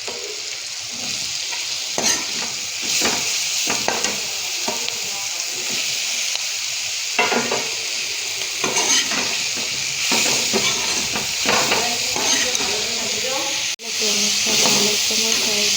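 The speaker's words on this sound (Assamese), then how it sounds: "মই চয়াবিনখিনি ভাজি ল'লোঁ।" Soaked soybean chunks fry in a pan with a constant hissing sizzle, punctuated by repeated stirring clatters and scraping from a spatula throughout.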